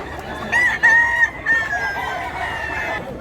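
A rooster offered for sale crows once nearby, a loud drawn-out call with a clucking hen alongside and faint background noise.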